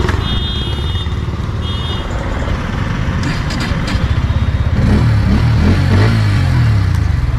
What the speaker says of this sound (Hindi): अब मैं आपको ये बाइक एक बार स्टार्ट करके भी दिखा देता हूँ।